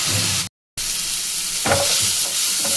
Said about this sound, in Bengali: পেঁয়াজগুলো যেই দেখুন ভাজা হয়ে গেছে